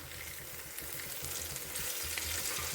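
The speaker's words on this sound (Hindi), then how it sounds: "इसी तरह से उलट पुलट करते हुए इसको हम ब्राउन होने तक के फ्राई कर लेंगे" Arbi leaf pakodas frying in oil and being flipped over, giving a dense, even sizzle with soft rhythmic scraping and bubbling as they are turned, close and alone.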